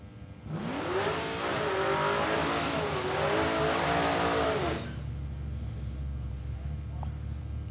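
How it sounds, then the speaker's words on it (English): A drag racing wagon doing a smoky burnout at a raceway, the engine roaring hard for about four seconds with rising and falling revs over tire noise, then cutting back to a low idle rumble. "Plenty of smoke in the burnout for Ray Ford."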